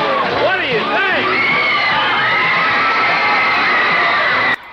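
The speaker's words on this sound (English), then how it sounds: "Jimmy Valiant is in the studios and the crowd are going absolutely banana." A wrestling studio crowd cheers, whoops and screams loudly and steadily as Jimmy Valiant enters, a dense wall of excited voices that cuts off abruptly near the end.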